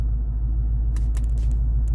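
Low, steady engine rumble from a red Ford Mustang being driven, heard from inside the car, with a few faint clicks and rattles partway through; no talking.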